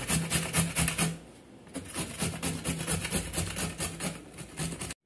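Carrots are chopped quickly on a wooden cutting board, a fast, even run of close knife taps that pauses briefly and then resumes at the same steady pace.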